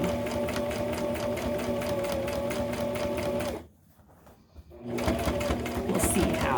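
A sewing machine stitches close to the edge of a backpack in a fast, rapid rhythm, stops briefly midway, then starts again with a voice talking over it.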